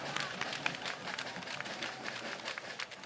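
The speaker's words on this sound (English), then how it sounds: "Round of applause." Audience clapping at a speaking event, a dense, even patter of many hands, fairly faint and somewhat distant.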